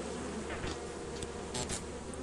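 Bees buzz faintly in the video game Lethal Company, a thin insect drone with a few brief swells and passes, heard alone without speech.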